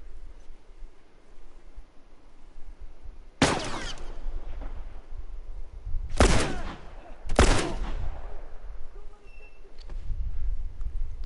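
Gunfire in The Last of Us sounds in three loud bursts, one single shot and then two close together, cutting sharply through a rumbling game background.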